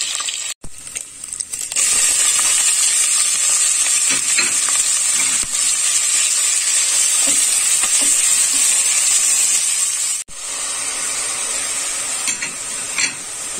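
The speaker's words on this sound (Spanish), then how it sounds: "en el mismo aceite lo vamos a dorar la cebolla" Onion frying in hot oil left over from searing chicken, giving a loud, steady close sizzle with occasional stirring scrapes and one brief break near the end.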